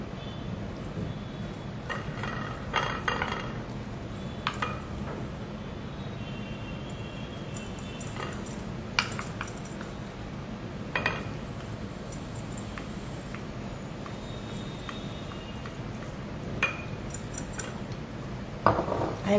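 Fermented nut and olive paste being moved into a jar, heard as scattered light clinks and taps of a utensil against glass over a low hum, with occasional faint talk.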